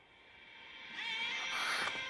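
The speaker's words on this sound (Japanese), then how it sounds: "あの猫の声が聞こえた気がして。" A single drawn-out cat meow rises and swells over about two seconds, fairly faint and heard alone against quiet background.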